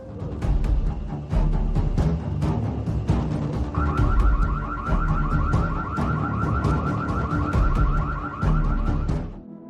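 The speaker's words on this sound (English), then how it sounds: "The doorbell camera then set off a loud alarm, which scared him away." A loud electronic alarm set off by a doorbell camera, repeating a rapid warbling tone for several seconds, heard close over ongoing outdoor background noise.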